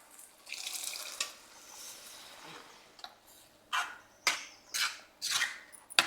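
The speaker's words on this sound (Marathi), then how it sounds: "आता आपल्याला ह्यामध्ये ना शिजवलेले वाटाणे ओतायचे," Cooked green peas and their cooking water are poured into a pan of sautéed spinach, giving a run of short, close splashing bursts that grow sharper and more separated toward the end.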